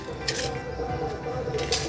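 Sugar powder and potassium nitrate powder being stirred together in a container, giving a continuous close scraping and squishing mix with brief brighter scratches, no talk.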